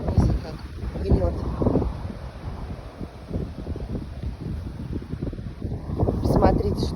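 Gusty wind sweeps through plants and roses in a garden plot, rumbling and buffeting the microphone in swelling waves, with someone talking over it at times.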